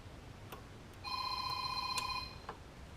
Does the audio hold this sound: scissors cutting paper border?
no